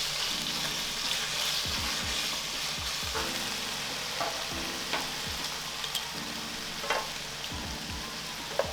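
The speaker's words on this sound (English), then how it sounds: "brown the meat a little bit and then I'll cook the veggies so I can get a little bit of that, of the fat from the beef rendered into the pan" Beef and vegetables frying in an oiled pan give a continuous close sizzle, broken by periodic scraping stirs about every second or so, with no talk over it.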